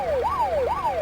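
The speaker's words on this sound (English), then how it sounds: "So now it's just siren" A police car siren in a driving video game wails in a repeating rising-and-falling sweep, clear and steady with no talk over it.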